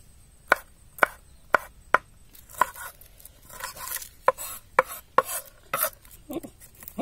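A kitchen knife chops green chillies on a board in a series of sharp, close knocks, several evenly spaced at first, then quicker and more irregular with some softer scraping between strokes.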